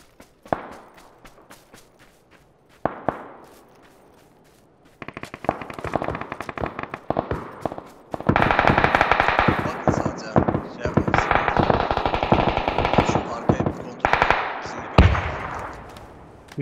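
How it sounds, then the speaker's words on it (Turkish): A firefight in PUBG: scattered single shots at first, then dense bursts of rapid automatic gunfire crackling loudly and almost continuously, with players talking over it. "Sadece 300 tarafında çatışma var şu an."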